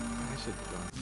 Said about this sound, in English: Payphone ringing in the wild?